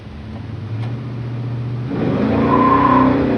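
A 1970 Chevrolet Chevelle SS with a big-block V8 pulls away hard, its deep engine note climbing and thickening as it accelerates, loud and close with no talking.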